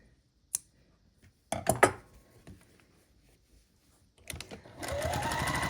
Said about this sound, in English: So I'm just going to keep sewing these up.